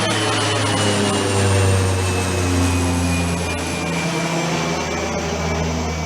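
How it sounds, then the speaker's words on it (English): A plane drones overhead during an outdoor car wash, a steady loud engine hum with tonal whine holding across the whole stretch, no talk. "wait a second, there's a plane"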